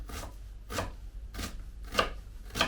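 Red onion being finely chopped with a knife on a cutting board, five or so steady, evenly spaced knife strokes close to the microphone, with no talking.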